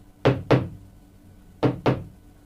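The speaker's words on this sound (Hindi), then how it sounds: "अभी भी कोई खटखटा रहा है" Knocking on a door in two paired bursts, two sharp knocks, a pause, then two more, close and clear with no voices.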